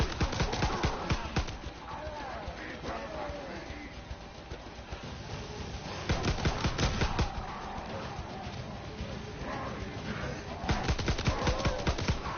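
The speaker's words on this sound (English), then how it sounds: "Need to jump on that machine gun!" Machine gun fire in a zombies video game on the Darkest Shore map, sustained rattling bursts that swell louder around the middle and end, mixed with busy game sounds and other effects.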